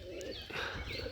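White Rajshahi Giribaz pigeons coo softly and steadily from close by in a loft, with a few faint chirps mixed in and no talking.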